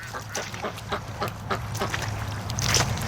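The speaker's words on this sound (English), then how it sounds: "she's a seriously happy duck back there" A free-range duck quacks in short repeated calls from somewhere nearby, set against a steady low hum of background noise.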